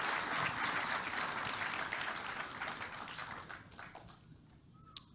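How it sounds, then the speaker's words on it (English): An audience at a distinguished lecture series bursts into dense, sustained applause that fades away over a few seconds, leaving near quiet and a single faint knock at the end. "So please, a round of applause for his father."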